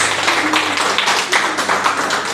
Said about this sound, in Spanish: Vamos a darle un fuerte aplauso a la palabra de Dios.